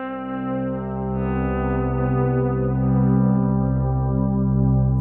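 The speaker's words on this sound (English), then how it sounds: "Then we have Bode electric guitar from Omnisphere." A sustained, heavily processed Bode electric guitar patch from Omnisphere drones with a deep low end, smooth and shimmering with effects, holding steady without breaks.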